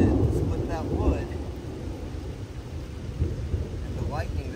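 Thunder in a violent storm, a low rumbling roll under steady rain and wind buffeting the microphone, with a person's voice speaking over it.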